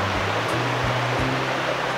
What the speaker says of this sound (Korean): 흐르는 물소리에 마음 편안해집니다